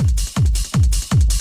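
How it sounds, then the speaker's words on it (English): A reversed kick drum swells and cuts off four times in an even rhythm, deep and punchy, playing alone. "This is a cool reverse kick that I found in a pack"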